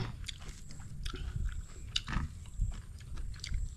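Someone bites and chews food close to the mic while eating a Thai termite-mushroom pon dip, with irregular crunchy bites and soft mouth sounds at a quiet level.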